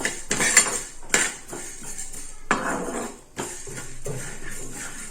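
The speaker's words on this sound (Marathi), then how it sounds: "आता मी इथे धने परतून घेणार आहे." Coriander seeds dry-roasted in a pan, stirred with a metal spoon that clinks and scrapes against the pan in irregular bursts, close and moderately loud, with no talking.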